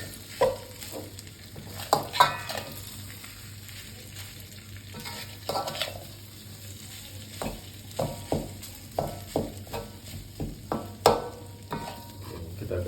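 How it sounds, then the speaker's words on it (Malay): Metal spatula repeatedly scraping and clanking against a wok while fried rice sizzles underneath, in irregular bursts of tossing and stirring, close and fairly loud, no talking. "Kita gaul-gaul dia. Ini kuali itu kena hentak kuat sikit lah."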